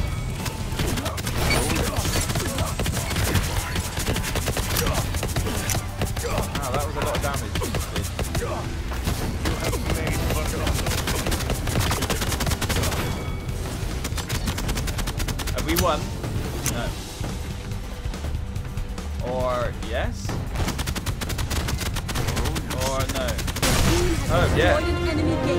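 A sentry gun fires in the video game Paladins, a dense, continuous barrage of game gunfire and booms mixed with other battle effects, loud throughout, with voices talking over it.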